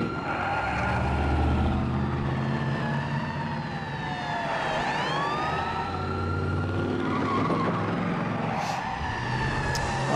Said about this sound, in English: if you guys can tell me what kind of motor that cop car has, sound of it